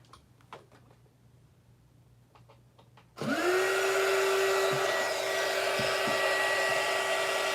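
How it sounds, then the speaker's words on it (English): Heat gun switching on with a click and blowing hot air at a plastic measuring cup, a loud steady whirring rush that starts abruptly and holds without a break, close by with no talking. "I'm taking my heat gun."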